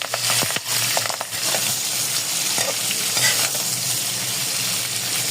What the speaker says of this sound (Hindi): तो मिर्चें पहले हम फ्राई कर लेंगे।